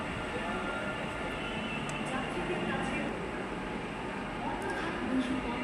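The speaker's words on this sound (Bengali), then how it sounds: "এবার আমাদের মেট্রোটা আসছে" A metro train pulls into a station, a low continuous rumble and rolling hum of cars growing slightly, with faint background voices murmuring on the platform.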